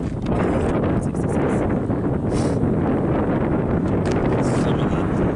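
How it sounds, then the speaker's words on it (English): Strong wind buffets an outdoor microphone at Petrified Forest National Park, a dense, steady roar of low rumbling and gusty crackle that runs without a break through the whole stretch. "I know it's windy."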